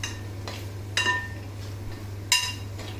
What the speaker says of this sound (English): Now we must stir it well.